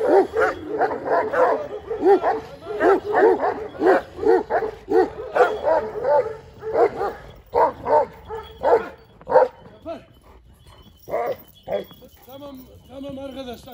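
Kangal guard dogs from Sivas bark repeatedly in loud, close, rhythmic bursts with some yips and whimpers, while someone talks intermittently nearby.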